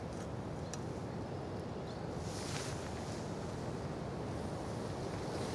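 Wind gusts outdoors with a steady, rushing roar that buffets the microphone beside a small tablet camping stove heating a titanium pot, continuous and moderately loud without talk.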